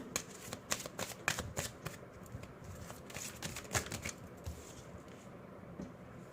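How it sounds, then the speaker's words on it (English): Tarot cards shuffled and pulled from a deck, a close run of quick crisp riffling flicks and taps in irregular bursts, quiet and without speech. "One more card we'll pull."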